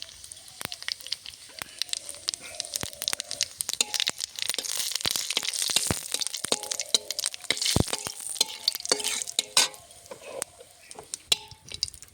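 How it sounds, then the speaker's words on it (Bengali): Dried chilli, bay leaf and cumin crackle and spit in hot oil for a tempering, a dense run of small close pops and snaps, some sharper than others, with no talking. "জিরে দেবো ফোড়নে"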